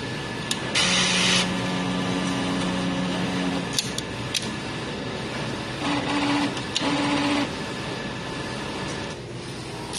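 A sublimation printer runs a head cleaning cycle, giving a steady, loud mechanical whir and hum with tonal whines. Pump and carriage noises shift in bursts across the whole stretch, and no one speaks.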